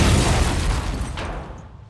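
Aerial bombs bursting among the Roman ruins of Pompeii during the Second World War bombing raids, a heavy rumbling boom that rolls on loudly and slowly fades, with no voices.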